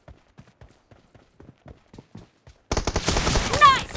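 Gunfire in the video game PUBG erupts as a loud, dense burst of shots and booms after a stretch of quieter, rhythmic game sounds.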